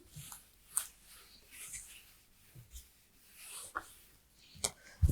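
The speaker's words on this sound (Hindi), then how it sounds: "चलो अब नेक्स्ट पॉइंट लिखते हैं।" Faint, intermittent strokes of writing on a board, with short scratchy marks and soft taps spaced irregularly in a quiet room.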